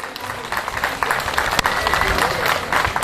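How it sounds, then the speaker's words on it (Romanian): An audience at a village gathering in Tureni claps for the mayor, a brief burst of crowd applause. "Aplauze pentru primarul dumneavoastră de seamă."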